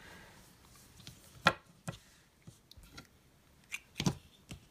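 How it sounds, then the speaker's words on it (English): Scissors snipping crochet yarn close up, a couple of crisp quiet cuts with soft handling rustles in between, otherwise near silence. "Snip our yarn."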